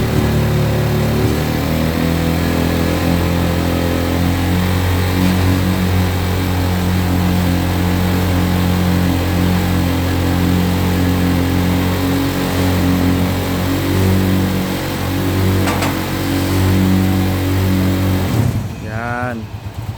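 Dump motorbike engine idling loud and close, then revving sharply as the throttle is squeezed near the end, with someone talking over it.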